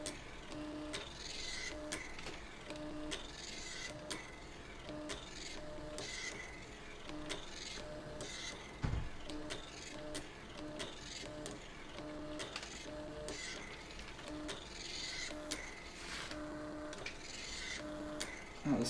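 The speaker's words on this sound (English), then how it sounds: "the software finished sending the data to the printer" An old computer printer runs in a quiet room, repeating a soft rhythmic mechanical chatter with small ticks for nearly twenty seconds, faint throughout, with one brief thump midway.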